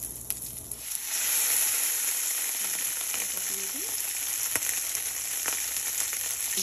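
Salmon fillet laid skin side down in hot ordinary cooking oil with black pepper, sizzling steadily and loudly up close after a brief quieter start, with a faint clink or two over the continuous frying hiss.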